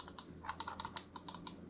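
Side buttons on a Secret Gear ZX2 gaming mouse clicked in quick succession, about a dozen crisp, light clicks in an irregular rhythm, close and fairly quiet with no talking.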